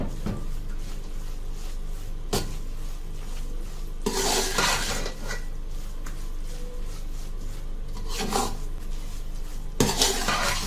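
Khoya being mixed into carrot halwa in a pan, with steady scraping and clinking of a spoon against metal, broken by a few louder clattering strokes, close up and with no talk.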